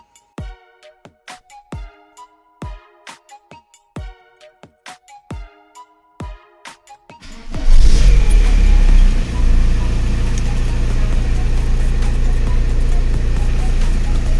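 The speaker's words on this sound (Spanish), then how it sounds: "os voy a arrancar el coche para que veáis cómo suena" An Audi A4 / Passat B5 with a freshly fitted clutch, preceded by a rhythmic series of beeping chimes, then the engine starts and settles into a steady, loud idle.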